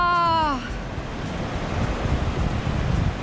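Ocean surf along the Baja California coast, a steady broadband wash of breaking waves with some wind noise, continuing after a brief tonal sound fades out in the first half second.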